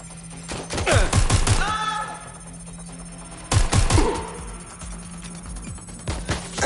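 Sharp bursts of gunfire in the video game Watch Dogs, with two loud clusters of rapid shots separated by a quieter pause, set against a steady electronic hum.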